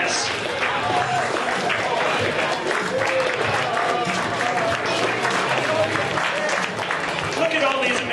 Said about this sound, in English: Let's give them one more giant round of applause.